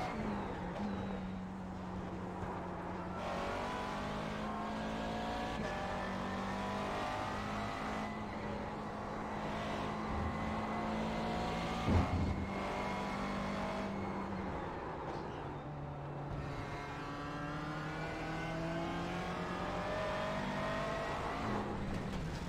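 A GT3 race car engine in a Road Atlanta racing video game holds a steady, droning high-revving note, with gear changes that drop the pitch and climbing revs, carrying on without a break.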